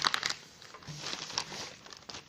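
Paper sewing pattern being folded by hand, giving soft crinkles and rustles close by, busier at the start and then lighter, irregular handling.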